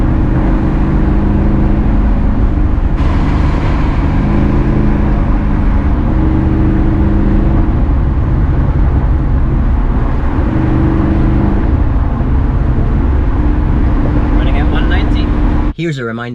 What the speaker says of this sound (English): I am enjoying the audio produced by this V8 small block Chevy